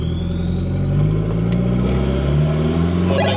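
A tuned car drives and accelerates, its loud engine climbing steadily in pitch as it pulls hard, then a brief break at the very end that sounds like a gear change. No voices.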